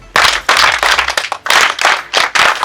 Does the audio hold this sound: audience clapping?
yes